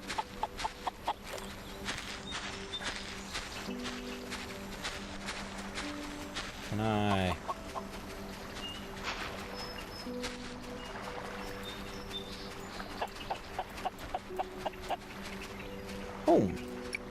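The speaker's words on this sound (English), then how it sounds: "get this little chicken to follow me" A farm chicken in the cozy farming game Solarpunk clucks in short repeated bursts, with a few louder calls, under frequent talk from a player and soft game sounds.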